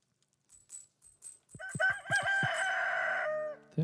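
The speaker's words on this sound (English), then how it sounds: "Is a Phantom Rooster here?" A Phantom Rooster in the Stardew Valley video game crows loudly in one long, drawn-out call, preceded by a few short clucks and clipped notes, with no talk over it.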